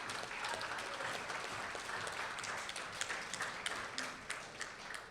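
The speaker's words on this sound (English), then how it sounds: "Give them another round of applause." Continuous applause from a gathered audience at a public forum, many hands clapping steadily and fairly close, with no speech on top.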